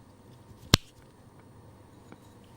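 A metal fork snaps in two during a magic trick: one sharp, isolated crack in a quiet room, brief and fairly close.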